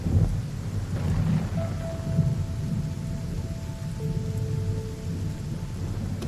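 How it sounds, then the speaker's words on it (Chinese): Heavy rain pours steadily outside, a thick hiss with deep thunder rumbling underneath throughout. No one speaks, and faint sustained tones drift in the background. "外边雨下的挺大的"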